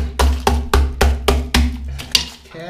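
Glacial ice being crushed, a series of about seven sharp, loud crunching impacts at a steady rhythm, close and without talk.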